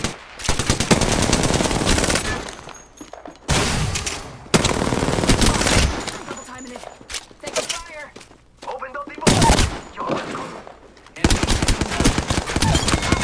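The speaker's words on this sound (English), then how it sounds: "They're shooting at me." Apex Legends gameplay brings loud bursts of automatic gunfire and rapid machine-gun volleys, broken by short pauses and thuds, while a player talks between the shots.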